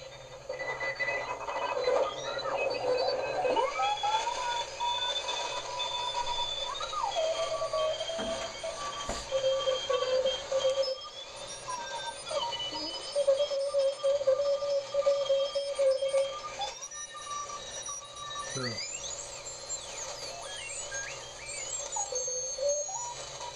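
A 1T4 and 3V4 valve regenerative receiver tuned across the 40-meter amateur band gives steady radio hiss with whistling heterodyne tones and warbling signals that shift as the tuning moves, no voices present.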